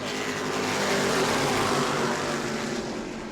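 Race cars at New Smyrna heat racing roar past in a loud, steady engine drone that swells and fades slightly.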